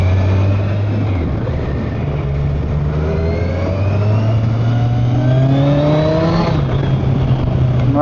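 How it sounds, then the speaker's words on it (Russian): A driving-school motorcycle rides past on a city street, its engine note rising and falling steadily over a constant road and traffic rumble, fairly close and moderately loud. "О, на мотоцикле ездит мотошкола."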